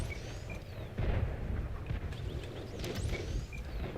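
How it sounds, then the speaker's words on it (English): Tank cannon fire in World of Tanks: a heavy boom lands about a second in, then further deep blasts and rumbling over a sustained low battle din, with faint whooshing effects higher up. "Get ready to fire the cannon!"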